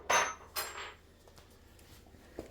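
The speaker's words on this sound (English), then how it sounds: "Step 4 is attaching these hooks to the arms so it hooks onto the backrest." Metal hooks being fitted onto the arms of an IKEA LANGARYD chair during assembly give two sharp, close clinks in quick succession, then quiet handling rustle and one last light tap, with no talking.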